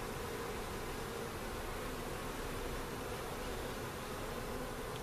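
Honey bees from a small swarm fan their wings in a dense, even hum close by, holding steady throughout with no other sounds.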